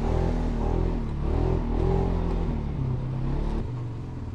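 A 2023 Polaris Sportsman 570 Ride Command ATV rides over a rough trail, its engine humming steadily at mid revs with small rises and dips in pitch, loud and close throughout with no talking.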